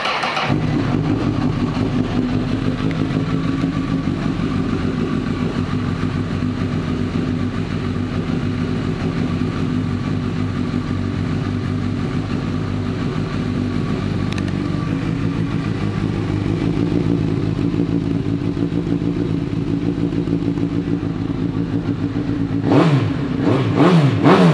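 A used 2013 Honda CB1000R motorcycle engine idles loudly and steadily up close for a long stretch, then revs sharply a couple of times near the end, with no talk.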